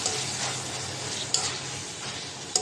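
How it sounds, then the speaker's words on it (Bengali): Ginger, garlic and cumin paste fries with a soft, steady sizzle for beef and potato curry, broken by a couple of sharp scrapes of stirring. "আদা রসুন কাঁচা জিরা বাটা একটু ভেজে নিব"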